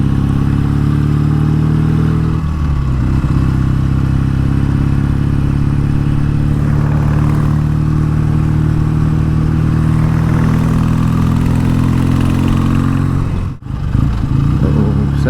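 A BSA A10 Super Rocket motorcycle engine drones loud and close while riding, holding a steady throbbing note with a brief shift in pitch early on and a short dip near the end, with wind noise and no talk.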